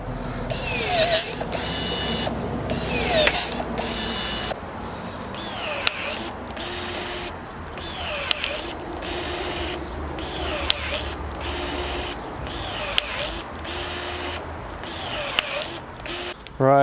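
Budget battery-powered pruner biting through a soft wood branch near its one-inch limit, with repeated short bursts of motor whir and clicking ratchet-like cuts separated by brief pauses, close and alone.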